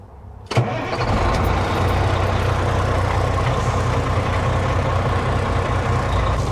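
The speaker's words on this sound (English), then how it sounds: "push the clutch down and start the truck" A tractor trailer truck's engine cranks and catches with a sudden burst, then settles into a steady, loud, rumbling diesel idle that carries on alone, close by.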